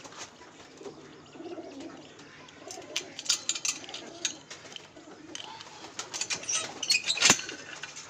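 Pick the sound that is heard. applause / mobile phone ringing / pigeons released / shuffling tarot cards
pigeons released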